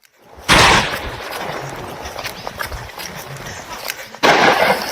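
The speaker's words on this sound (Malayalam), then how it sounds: "പടക്കം പൊട്ടിച്ച് ശ്രദ്ധ തിരിക്കാൻ ശ്രമിക്കുമ്പോഴെല്ലാം 2 ആനകളും അക്രമാസക്തരായി ഓടിയെത്തി" Firecrackers are set off outdoors to scare away wild elephants, with two loud bursts, one near the start and one near the end, and a rough, crackling rumble between them.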